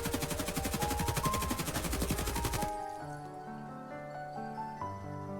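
An RPK machine gun in Escape from Tarkov fires a loud, rapid automatic burst of evenly spaced shots for under three seconds, then stops, leaving ringing echoes and faint clinks.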